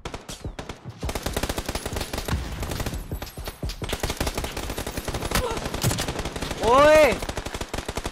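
Rapid PUBG gunfire crackles steadily through most of the stretch, dense automatic bursts close and sharp, while a voice calls out briefly near the end.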